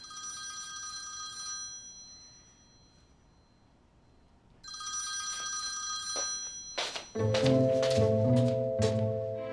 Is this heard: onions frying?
no